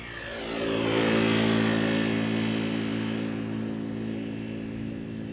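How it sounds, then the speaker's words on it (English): An Embraer 175 passes overhead near Amsterdam Schiphol Airport. Its loud, steady jet roar builds quickly and then slowly fades, with no one speaking. "Embraer 175 in the background"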